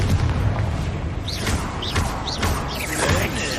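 Confringo fire spells burst in Hogwarts Legacy combat, a run of booming blasts and thuds rising over one another with whooshing magical effects and rumbling game audio, loud and close.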